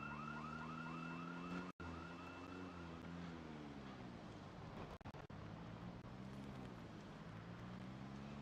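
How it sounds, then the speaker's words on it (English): A house alarm in Project Zomboid wails nonstop in a rising and falling electronic tone, loud and steady for the whole stretch with only brief dropouts. "That's the second house alarm I've tripped in Echo Creek"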